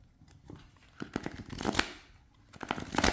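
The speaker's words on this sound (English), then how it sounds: "listen to how this shuffles." A tarot card deck being shuffled by hand, close and fairly quiet, with bursts of riffling and crisp card flutter separated by short softer pauses.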